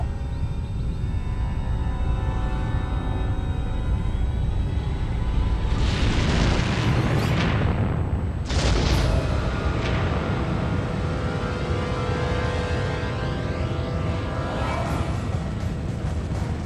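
A powerful volcanic eruption, a dense continuous roar and rumble with two sharp explosive blasts midway, loud and close, and no voices.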